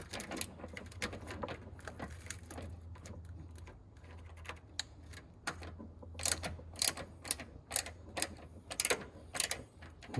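Ground wire screw being loosened on a Tesla Model Y, heard as a run of small close mechanical clicks and ratcheting taps that grow louder and denser toward the end.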